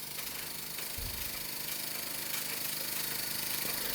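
A Microcosm M22 micro steam engine runs on steam with a steady, busy mechanical chatter and hiss, close and continuous, with a brief thump about a second in.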